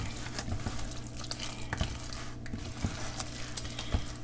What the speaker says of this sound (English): Stir that up really good.